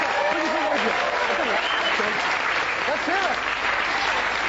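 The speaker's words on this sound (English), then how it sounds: "Give him a big, big round of applause." Big round of applause from a comedy magic show audience for a magician's assistant, continuous loud clapping throughout, with a voice speaking over it.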